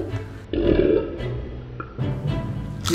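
A four-year-old child burps loudly twice in a home setting, two throaty rumbling belches about a second apart, close to the microphone with no talking over them.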